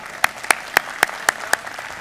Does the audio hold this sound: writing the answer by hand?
no